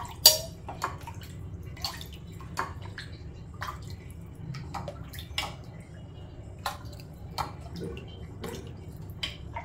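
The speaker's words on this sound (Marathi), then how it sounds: "आता ना मी दोन्ही पाणी एकत्र करते, तिखट आणि गोड." Spicy and sweet panipuri water pours and drips as the two are mixed together, a quiet trickle punctuated by sharp splashes and clinks at irregular intervals, with no talking.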